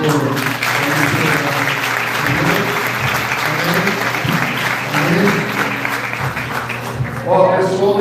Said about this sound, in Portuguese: Aplausos, Senhor.